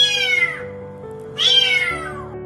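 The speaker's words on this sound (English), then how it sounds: "hear the kitten meowing for help." A kitten stuck down a deep storm drain meows twice, two clear, high, drawn-out cries separated by a short pause, each loud and close with a hollow background hum.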